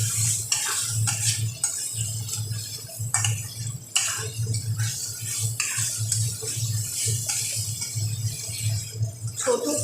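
Potatoes fry with spices in a pan for a vegetarian posto dish, giving a soft steady sizzle broken by the clink and scrape of a spatula stirring, close and quiet over a low kitchen hum.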